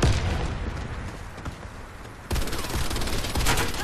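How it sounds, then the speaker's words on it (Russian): Dense gunfire and explosions during a Warface clan war match: loud continuous crackling bursts with a sharp jump in intensity partway through, no voices. "Граната пошла!"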